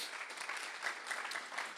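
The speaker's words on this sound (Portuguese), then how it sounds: "Pode dar um aplauso a Jesus?" Church congregation applauding steadily at a moderate distance, a dense continuous patter of clapping with no speech over it.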